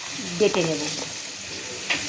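Pointed gourd (potol) fries in hot oil with a steady sizzle, joined by a brief stirring scrape, while a voice speaks a few words over it.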